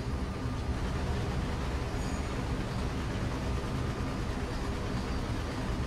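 Hopper cars of a grain train keep rolling on the rails, a constant low rumble and clatter from the cab, even in loudness throughout.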